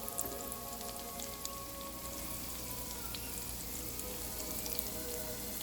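Yellow onions softening in a pan, a steady, close crackle and spit that runs evenly throughout without any voices over it.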